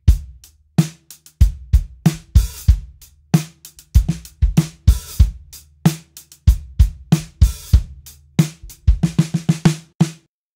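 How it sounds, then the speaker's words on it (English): A drum kit plays a punchy groove of kick, snare and hi-hat, with the hi-hat struck open, then clamped shut by the foot pedal in short sizzling bursts, close and loud with no talking. "Hit the hi-hat, open it, and then close it with your foot."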